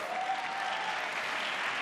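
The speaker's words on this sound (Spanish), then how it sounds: "Un aplauso para ellos" Dense, steady applause from an awards-ceremony audience at the Goya Awards, a continuous wash of many hands clapping at once, moderately loud and close, with no voices breaking through.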